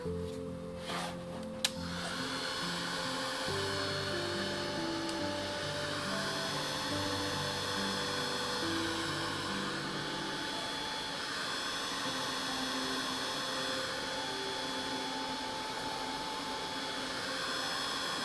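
A heat tool blowing steadily on wet cardstock, a constant loud whirring hiss with a faint electronic tone that holds unchanged for the whole stretch after a brief click near the start.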